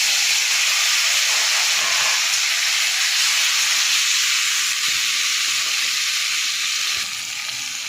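Tomato goes into a hot pan of fish cooked with fenugreek, and a loud, broad, steady sizzle and hiss carries on for several seconds with no talk.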